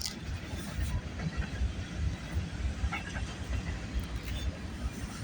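Freight or passenger train 382 rumbling past at a steady distance, a continuous broad low roar with faint wheel and rail noise and no clear horn, heard alone without talk.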